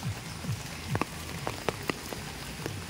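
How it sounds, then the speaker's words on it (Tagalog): Heavy, continuous overnight rain, a steady faint hiss on surfaces with scattered sharp drip impacts. "sobra ang ulan. Walang tigil."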